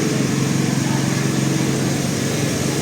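A powerful generator runs on a summer street in central Lviv, producing a loud, steady engine drone with a constant mechanical hum throughout.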